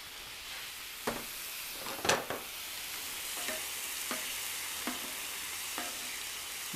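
Vegetables and pineapple stir-fry in a hot pan, a steady soft sizzle broken by regular spatula scrapes and taps every second or so, close and without talk.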